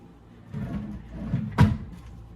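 Someone tugs at the bottom drawer of a nightstand that won't open, producing a brief muffled rattle and then one sharp knock or thud near the end, fairly close and moderately loud.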